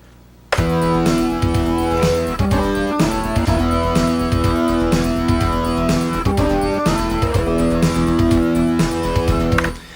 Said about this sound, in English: what you're hearing is a drum kit with some percussion, a bass part, and an organ part